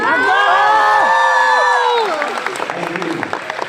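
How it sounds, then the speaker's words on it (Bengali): An audience gives loud applause and cheering for a girl named Nisha at a stage event with a robot presentation, with excited shouts and whoops over dense clapping that fades toward the end. "নিশার জন্য জোরে হাততালি হতে পারে কি?"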